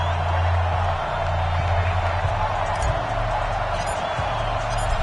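Stadium crowd in an EA Sports NFL video game before a Buffalo Bills versus Denver Broncos matchup, a dense, continuous roar of ambience under a commentator's voice.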